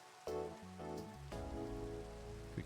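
Rain falling in the video game Minecraft, a steady soft hiss of drops on surfaces running throughout, layered under sustained tonal game music.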